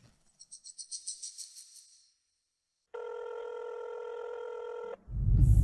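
A phone gives a rapid, fluttering electronic ring in pulses, falls silent, then a steady multi-tone dialing or line tone holds for two seconds before a low rumbling noise takes over, while someone calls the police.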